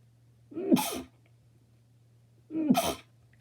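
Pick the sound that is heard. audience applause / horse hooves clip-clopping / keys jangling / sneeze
sneeze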